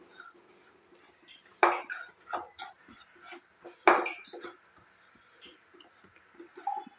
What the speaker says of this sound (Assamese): চুজিখিনিও মই ল' ফ্লেমতে ভাজিম। এইদৰে লৰাই থাকিব